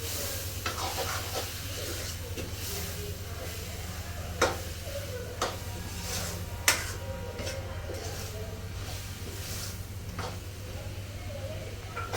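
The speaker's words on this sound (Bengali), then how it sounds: "এবার হলো শাকটা দিয়ে দিচ্ছি" Pumpkin greens stir-fry in a pan with a steady sizzle, while a utensil scrapes and taps against the pan in occasional sharp clicks.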